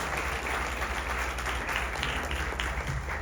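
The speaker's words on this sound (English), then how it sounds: "give this living legend right here on the stage a much bigger round of applause" Dense, loud applause from a large audience greeting actor Kamal Haasan on stage at a cinema fireside chat, continuous clapping at an even level throughout with no voices over it.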